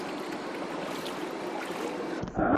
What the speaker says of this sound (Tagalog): hanggang tuhod na yung baha dito